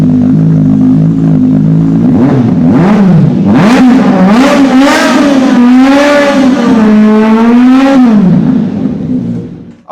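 A loud superbike engine revs hard, climbing and falling in pitch several times with a throaty roar, close and continuous before fading at the end.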